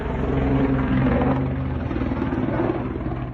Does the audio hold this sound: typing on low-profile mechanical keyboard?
no